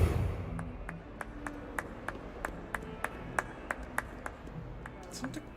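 Clapping in a Hogwarts video game, a slow, steady series of single sharp claps, about a dozen, evenly spaced and fairly quiet against a low background.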